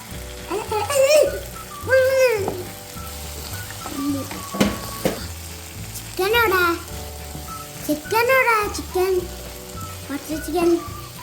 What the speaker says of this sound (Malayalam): നമുക്ക് നല്ലോണം ഇളക്കി കൊടുക്കുക കേട്ടോ